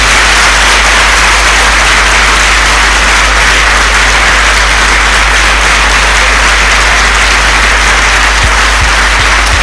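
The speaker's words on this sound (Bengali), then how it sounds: "একটু জোরে হাততালি হবে" A standing audience at a career-preparation talk claps loudly in honour of a speaker, a thick, continuous wash of hand-clapping with a steady low hum running beneath it.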